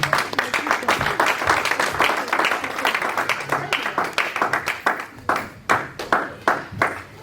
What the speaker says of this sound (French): Merci pour ces acclamations que tu as données là.